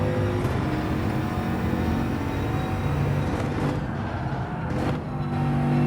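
A Bugatti Veyron in Gran Turismo 7 gives a steady, loud engine drone with sustained tonal harmonics that shift as it coasts and accelerates. It plays alone with no talking.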